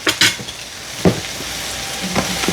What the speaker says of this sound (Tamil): வெங்காயம் நல்லா வதங்கிட்டு கொஞ்சம் உப்பும் போடுவோம்